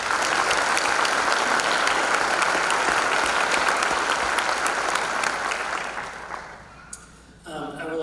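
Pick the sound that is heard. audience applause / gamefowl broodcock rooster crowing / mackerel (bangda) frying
audience applause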